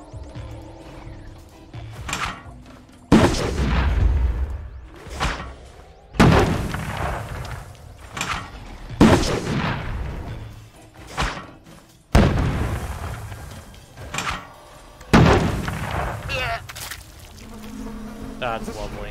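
Grenades explode in the video game We Happy Few: five sharp, loud blasts land a few seconds apart, each fading into a rumbling tail.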